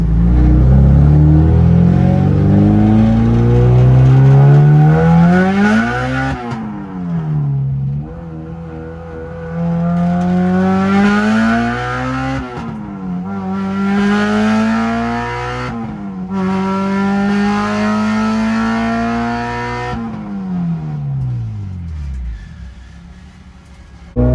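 A K24-swapped Honda Civic with a new clutch and flywheel pulls hard on a test drive, its engine rising loudly through several gears with clear dips at each shift before easing off.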